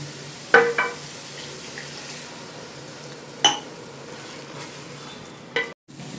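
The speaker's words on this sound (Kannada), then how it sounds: "ತರಕಾರಿ ಬೇಯೋಕ್ಕೆ ಸ್ವಲ್ಪ ಬಿಸಿನೀರು ಹಾಕೊತಿದ್ದೀವಿ," A glass of hot water poured onto spiced vegetables in a hot pan while cooking mushroom pulao, giving a few sharp sizzling bursts and clinks over a steady low frying hiss, close by with no talk.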